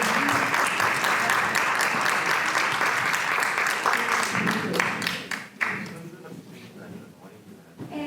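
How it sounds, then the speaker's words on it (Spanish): Audience at a university lecture series applauding the prize-draw winner, a full round of many clapping hands that fades after about five seconds, leaving a murmur of voices and a few stray claps. "Un aplauso para la ganadora, por favor"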